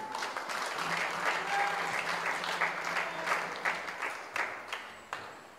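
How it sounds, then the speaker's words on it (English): A church congregation gives a round of applause, steady many-handed clapping that fills the room at moderate level and thins out toward the end into a few scattered, sharper claps. "Another big round of applause for Mikau and number two."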